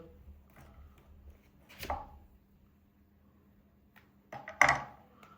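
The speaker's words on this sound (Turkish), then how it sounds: "Büyükleri ortadan ikiye bölüyoruz arkadaşlar." A knife halves mushrooms on a cutting board, two distinct chopping thuds, the second louder, separated by quiet near-silence.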